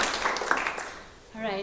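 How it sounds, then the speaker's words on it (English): Concert audience applause at Adath Israel Congregation, a dense wash of clapping that fades out within about a second before a singing or speaking voice comes in near the end. "Give yourselves a round of applause."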